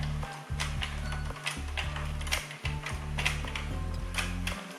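Addi Express knitting machine cranked slowly while casting on yarn, giving a close, rhythmic ratcheting clatter of gears and needles in repeating ticking cycles, with no talking.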